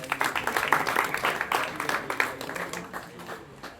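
An audience at a Ram Navami temple gathering claps steadily for several seconds, a dense wash of hands that gradually thins and fades.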